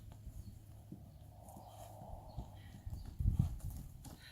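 A horse moves during groundwork training, its hooves thudding on the ground in a few clip-clop steps that grow louder near the end.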